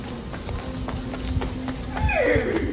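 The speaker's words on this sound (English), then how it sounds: "Will you pet my horse?" A horse, with soft hoof clops and shuffling close by, then a short rising whinny near the end, with faint background voices.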